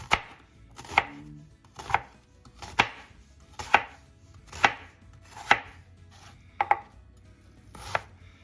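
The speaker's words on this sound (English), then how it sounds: "Let's start by cutting our onion up." An onion chopped with a knife for a frittata: about ten crisp, evenly spaced chops on a board, close and distinct, with quiet between strikes and no voices.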